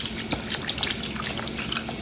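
Water being poured into a pot of mutton dalcha, a brief close splashing trickle with small drips over a low steady hum.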